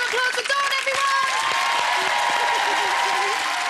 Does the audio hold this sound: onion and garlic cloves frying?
no